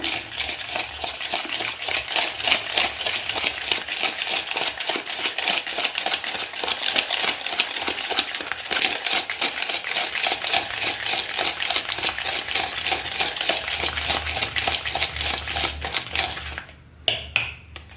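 Spoon stirring butter cake batter in a glass, a rapid, steady run of close clinking taps against the glass that continues for most of the time before a brief pause and a few last knocks.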